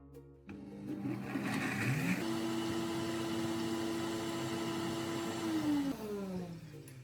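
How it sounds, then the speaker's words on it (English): A blender or food processor crushes roasted nuts and seeds, starting with a rough grinding rattle, then settling into a loud, steady motor whine for several seconds before winding down as the motor stops. "place them into a blender or food processor and blend a few times until they become finely crushed"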